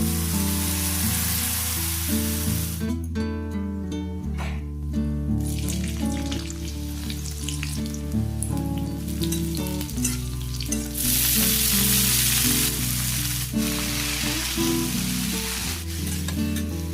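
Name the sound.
saag (greens) frying in a pan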